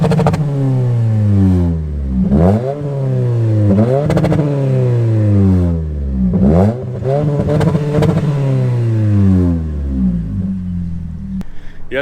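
A 2019 Toyota Camry XSE with its 2.5L engine and an aftermarket exhaust revs repeatedly, loud and close, each blip climbing then falling back in a steady rhythm of about four pulls.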